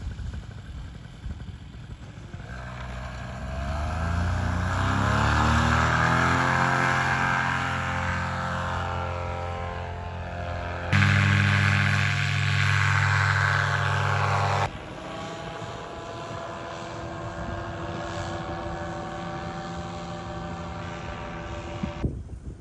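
Paramotor engine and propeller in flight over Florida lakes and fields, a loud droning buzz that climbs steadily in pitch, holds, then shifts abruptly as the throttle changes, steady and close throughout.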